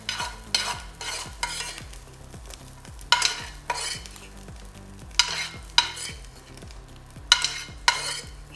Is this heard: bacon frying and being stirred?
yes